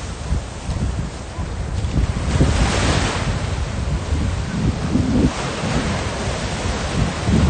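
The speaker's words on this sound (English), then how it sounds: "I love this area here with the waves breaking over the reef" Surf and waves break over a reef at Scarborough Beach, Australia, a continuous loud rush of water with swelling crashes and steady wind buffeting the microphone.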